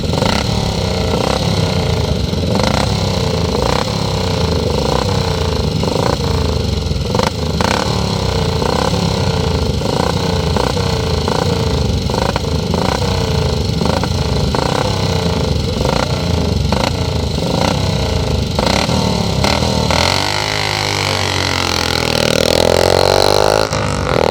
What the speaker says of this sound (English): This is Sydney Ormrod's 250cc 2-valve Rudge.